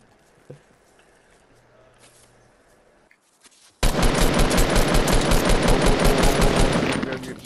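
Rapid automatic gunfire in Fortnite rattles loudly and continuously as players shoot at a trap, a sudden burst after a quiet stretch with faint movement sounds and brief voices beforehand.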